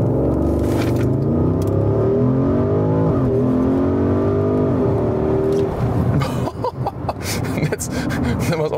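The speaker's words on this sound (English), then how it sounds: "we go to Sport Plus here to show you the launch control" A performance SUV launches uphill using launch control in Sport Plus mode. The engine note is loud and close, rising in pitch through several gear changes, then settling into rapid fluttering bursts.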